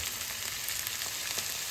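Chopped large onions fry in hot oil with curry leaves, giving a steady, close sizzle with small crackles scattered through it and no pause.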